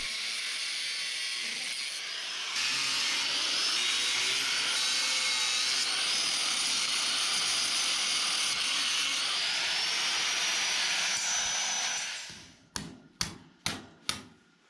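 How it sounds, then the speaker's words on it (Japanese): An angle grinder cuts through steel rebar with a sustained loud whine that shifts in pitch as the disc bites. The cut ends, followed by four sharp hammer-like knocks. "鉄筋をバーッと切っていきます"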